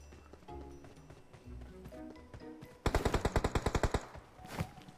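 A rapid burst of about a dozen loud automatic gunshots rings out in a video game, evenly spaced over roughly a second, following quieter footsteps and game noise, with a single softer shot after.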